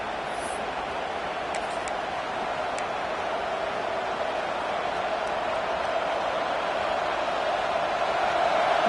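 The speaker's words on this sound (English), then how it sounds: "Listen to the crowd energy here in the early going." Stadium crowd at a Texas vs Oregon State college football game: a broad, steady roar of many distant voices with a constant hiss-like wash and no standout shouts, holding evenly throughout.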